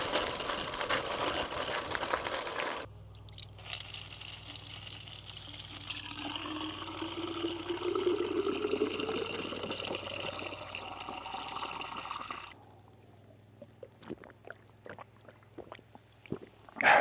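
Water runs steadily from a roadside drinking fountain into a bike bottle during a climb on the Karst, a continuous splashing flow that holds for about ten seconds before cutting off, leaving quiet outdoor ambience.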